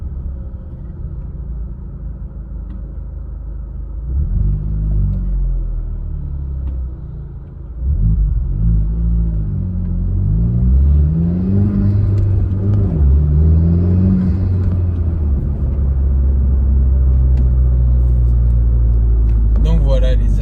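The muffled exhaust of a Honda Civic Type R FK2 engine gives a low, steady, heavily damped rumble heard from inside the car, with a person talking over it throughout.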